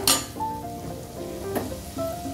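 Cumin and ground spices sauté in a pan of hot oil for Moghlai chicken, giving a steady, close sizzle with a few sharp clinks of stirring and no voices.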